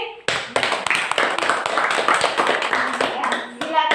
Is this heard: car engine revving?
no